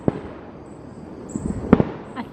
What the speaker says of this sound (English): I think we can see sort of like the tops of the fireworks